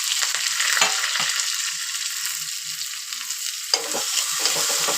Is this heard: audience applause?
no